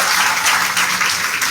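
A crowd at a rakhi fair in Bhopal Haat claps loudly in a brief, dense burst of applause lasting little more than a second.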